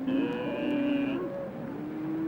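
Cattle lowing on the Serengeti plains, a long sustained moo with a drawn-out tonal call followed by a second lower, fading low, close and fairly loud with no voices.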